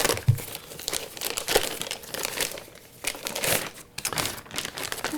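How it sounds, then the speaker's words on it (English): Plastic packaging is torn and crumpled off a Presonus Audiobox 44VSL USB audio interface, close loud crinkling in uneven bursts with brief pauses, no talking. "I guess I have to tear the plastic to get at this thing."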